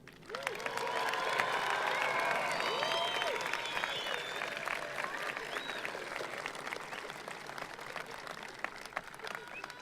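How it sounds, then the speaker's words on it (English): Graduates at the 2015 Revere High School graduation receive loud, sustained applause from a big crowd, with cheering and a few whistles rising over the clapping early on before it slowly thins. "Ladies and gentlemen, let's give our graduates a loud round of applause"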